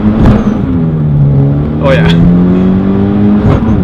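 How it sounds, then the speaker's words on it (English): A 2013 Hyundai Genesis Coupe 2.0T accelerates hard through first gear, its engine note climbing steadily and loud close up, with a voice talking over it. "So we're gonna do a little first gear pull."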